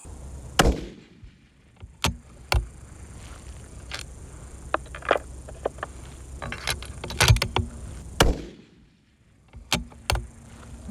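A rifle fires at a target 1,050 yards away with a dirty barrel, producing a few loud sharp reports spaced seconds apart, with quieter clicks and handling noises between them.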